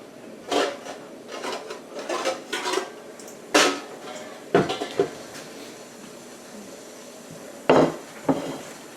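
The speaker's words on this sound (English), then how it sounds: "just crack a dozen eggs in here" Eggs cracked one after another into a bowl, a string of sharp close taps and knocks against the rim with brief pauses between bursts, alone without talk.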